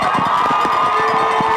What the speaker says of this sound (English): Plano faithful cheering on their defense